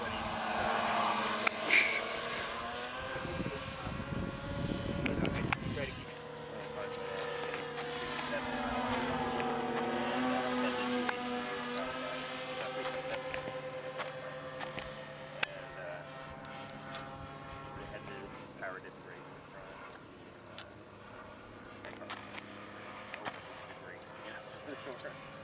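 A Horten VII flying-wing aircraft flies past: a droning engine tone that swells and shifts pitch as it goes by, then fades, with people talking nearby.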